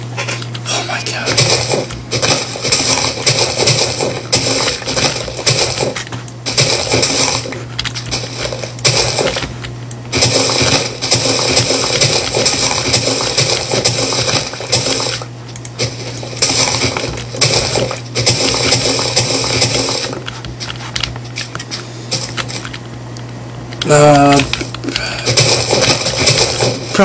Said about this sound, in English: Probably don't want to see me mine all this, and it's really loud and obnoxious for me.